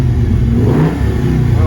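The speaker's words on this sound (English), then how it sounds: "And the motor's running quite nicely." Idling V8 in a 1966 Chevelle barn find, running steady and close with a broad low rumble and slight rev swells, with talking over it.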